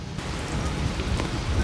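Steady rain hisses in the farming video game Garden Horizons during foggy weather, a dense, even wash of sound with faint low rumbles underneath and no talk.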